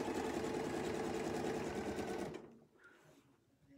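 Sewing machine stitching a baptist fan quilt design, a fast even needle chatter close by for about two seconds before stopping abruptly, followed by faint handling noises.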